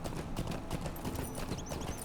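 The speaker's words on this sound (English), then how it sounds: "Horse riding." Horse hooves clip-clop at a steady riding pace in the LOTRO fantasy game world, continuous and fairly close, with faint birdlike chirps near the end.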